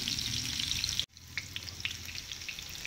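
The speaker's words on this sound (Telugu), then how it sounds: "సన్న మంట మీద మనం వేగనిద్దాం ఇంకొక టూ మినిట్స్ వేస్తే సరిపోతుంది" Stuffed bitter gourd frying in oil in a pan over a low flame, a steady close sizzle that cuts out for an instant and then resumes with scattered pops and crackles.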